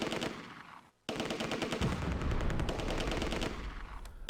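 Vickers machine gun in the Close Combat: A Bridge Too Far wargame firing long, rapid bursts of automatic fire at Arnhem bridge, broken by a brief pause, loud and continuous with dense rattling shots.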